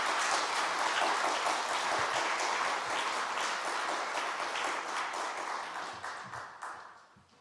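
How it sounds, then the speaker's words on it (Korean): A church congregation at a Wednesday evening service claps in encouragement, a dense round of applause that gradually thins and fades toward the end. "우리 박수로 우리 격려합시다"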